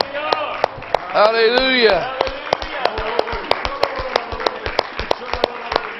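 Congregation hand-clapping in praise during a Pentecostal church worship service, a steady run of sharp, fairly loud claps repeating for several seconds while a voice speaks and sings over the first part.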